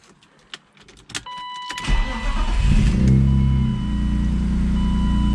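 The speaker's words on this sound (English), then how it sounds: "I'm gonna test the car out for the first time in weeks and see how these engine mounts feel." A BMW E36 with solid engine mounts cranks and fires up after a few faint clicks, then settles into a steady, loud, low idle rumble close by.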